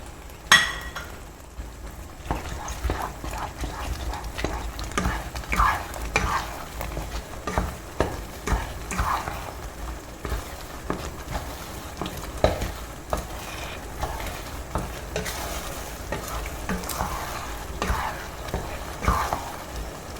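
Mukkani halwa with cardamom and cashews stirred in a pan, a spatula scraping and tapping in an irregular rhythm with occasional metallic clinks over a low sizzle, close up and without talk.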